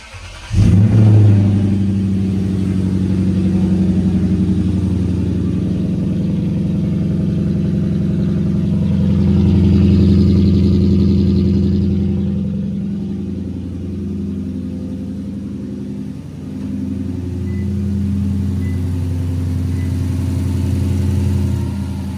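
A Lexus IS F car's engine runs steadily and loudly throughout a test drive, a close, continuous mid-toned drone that swells slightly in places, with no talking.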